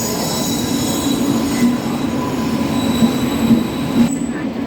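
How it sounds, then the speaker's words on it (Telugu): An express train bound from Vijayawada to Lingampalli rumbles steadily at a station platform, with wheels squealing on the rails and a continuous low drone that holds close and loud throughout. "విజయవాడ నుండి లింగంపల్లి వెళ్ళే ఎక్స్ప్రెస్ ట్రైన్ ఇది"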